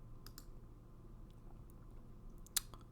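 A single sharp mouse click on a computer, crisp and close against a quiet, steady background hum.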